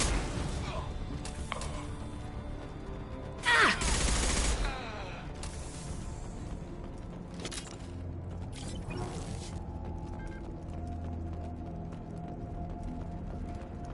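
Gunfire in the sci-fi shooter Mass Effect 2 (Legendary Edition): a loud, dense burst of shots, followed by several shorter, scattered volleys of firing, with a steady game ambience underneath.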